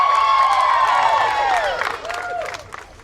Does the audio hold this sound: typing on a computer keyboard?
no